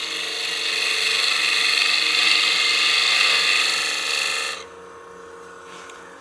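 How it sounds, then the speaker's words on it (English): A 3/8 spindle gouge cuts wood spinning on a woodturning lathe while shaping a small pot, a steady close hissing scrape that rises and then stops sharply, leaving a low machine hum. "I'm going to cut from this direction with my 3/8 spindle gouge."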